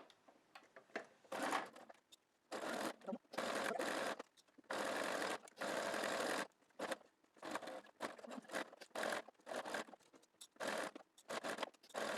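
A sewing machine stitches quilt pieces with a small stitch length at a quarter-inch seam, running in short bursts of rapid whirring separated by brief pauses, quiet and close.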